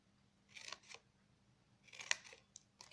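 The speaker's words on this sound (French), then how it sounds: "Et maintenant, tout simplement, vous allez couper, donc, comme ça." Scissors cut paper for a diamond-shaped box lid with a bevelled edge. Two quiet bursts of crisp snipping are heard, the second with a sharper click, against a faint background hum.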